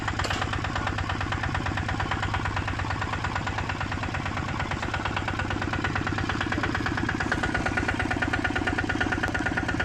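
A ZT140DI Plus diesel engine runs steadily with a rotary tiller attached, giving a loud, continuous low knocking drone with a fast, even firing rhythm that holds close and unbroken throughout.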